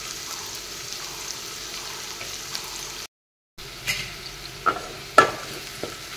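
Spices sizzle and fry in a pan for a small fish curry, a steady soft hiss with a few clinks of a spoon stirring, cut by a brief silent gap.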